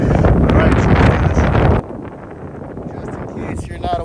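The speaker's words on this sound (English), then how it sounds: "just in case you're not aware of how windy this is" Strong outdoor wind buffets a microphone during a 3-inch freestyle quadcopter maiden flight in extreme wind. It is a loud, steady roar for about two seconds, then drops to a lower, continuous rumble.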